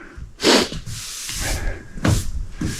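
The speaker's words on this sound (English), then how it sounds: "I'm gonna sand on this just a tickle more" Sanding glazing putty on a bathtub during a repaint: two loud, close rasping strokes with quieter rubbing between them, no talking.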